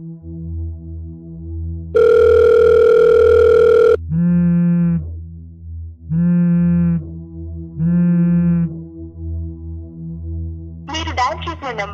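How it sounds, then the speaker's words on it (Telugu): A telephone line plays a long steady tone, then three evenly spaced pulsed busy beeps, with a mechanical ringing burst at the end and a low hum running underneath throughout. "The number you're calling is currently busy. Please call later."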